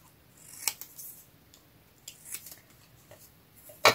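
Scissors cutting out card pieces for a handmade card, several sharp close snips spaced irregularly, with a louder cluster of cuts at the end.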